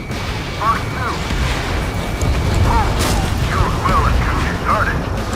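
Repeated explosions from destroyed targets in Ace Combat 7: Skies Unknown, during a pipeline destruction mission, rumble and crack as a steady loud barrage under game radio chatter and engine noise, with a sharper burst near the middle.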